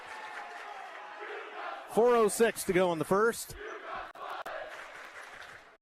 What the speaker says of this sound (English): Both cheering sections active